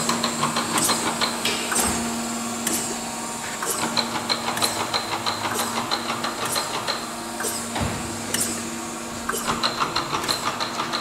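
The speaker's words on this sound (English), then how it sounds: "Hydraulics." Hydraulics run on a Chevalier FSG3A1224 surface grinder: a steady mechanical hum with a rapid, regular ticking and clacking pulse repeating throughout, close and fairly loud, with no voices.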